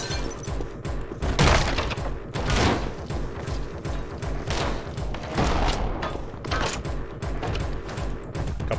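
Rapid automatic gunfire in the Anger Foot first-person shooter game, dense overlapping bursts and booms running continuously, loud and close, with crashing impacts mixed in.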